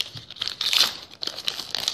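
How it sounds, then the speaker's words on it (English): Packing tape being cut and pulled to open a gift box, a close burst of crinkling and tearing plastic with scratchy rustles coming in uneven bursts. "Oh, I need to cut the tape."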